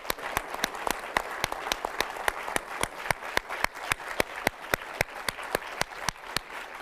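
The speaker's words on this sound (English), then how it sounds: "please join me in giving this amazing panel of guests all the applause that they deserve" An audience applauds a discussion panel with a steady, even patter of many hands, close and moderately loud, with individual sharp claps recurring throughout.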